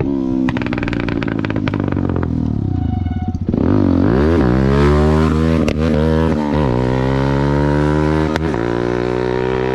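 A Lucky Star motorcycle engine runs loud and close, revving up and settling into a steady, throaty drone with rising pitch as it accelerates.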